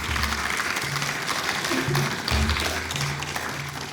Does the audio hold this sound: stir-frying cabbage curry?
no